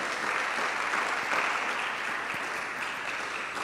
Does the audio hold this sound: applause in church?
yes